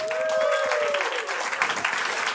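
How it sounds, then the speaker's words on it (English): Steady audience applause during a chemistry science show in Florence, many hands clapping evenly throughout, with a faint tone and a voice over the start. "Please applaud him"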